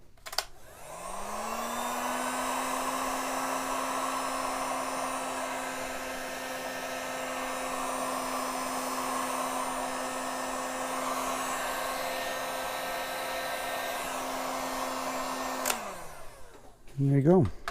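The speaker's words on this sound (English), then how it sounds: "We'll heat again." Steady, loud hot-air whoosh from a heat gun with a rising tonal whine, used while fitting a Shutter Precision dynamo hub on a bike, running about fifteen seconds before spinning down, with brief clunks at the end.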